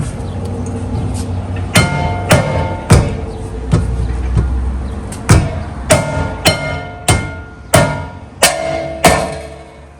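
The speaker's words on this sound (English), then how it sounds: "Just hammer it." Metal-on-metal hammer blows strike a stuck brake rotor on a 2018-2020 Honda Accord, roughly ten sharp, ringing hits spaced about half a second to a second apart, close and loud over a steady background hum.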